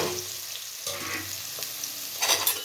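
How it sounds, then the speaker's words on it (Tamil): Onions sizzle in hot oil with popped mustard seeds for a Tamil drumstick and brinjal kulambu, a continuous close frying hiss with a few stirring scrapes and a louder burst near the end. "எண்ணெய் ஊற்றி கடுகு போட்டு பொறிஞ்சிடுச்சு இந்த டைமில் வெங்காயத்தை"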